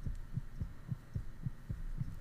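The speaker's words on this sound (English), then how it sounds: "that's fast heartbeat" Fast heartbeat in an anime-style visual novel game, a steady run of about eight deep, muffled thumps at a quick, even pace, quiet and alone.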